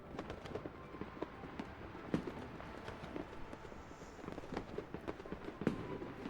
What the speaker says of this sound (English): Fireworks burst, their tenderest sparks resounding.